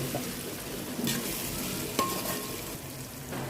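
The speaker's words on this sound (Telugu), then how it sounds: "అల్లం వెల్లుల్లి పేస్ట్ ఫ్రై అయిందండి టమాటాలు వేస్తున్నాను" Tomatoes frying in a pan with ginger garlic paste for a crab curry, a steady close sizzle with light stirring scrapes and one brief clink, no talking.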